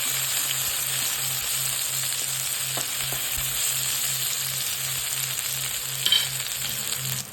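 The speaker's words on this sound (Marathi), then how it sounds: "त्याच्यामध्ये आपण टोमॅटो टाकून घेऊया" Tomatoes fry with onions in a pan, a constant close sizzle with a low rhythmic hum underneath and a brief utensil clink near the end, no talking.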